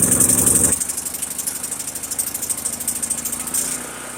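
A Firman HO7552 generator engine with the choke on turns over with a short loud burst, then settles into a steady, fairly quiet running chug that carries on to the end.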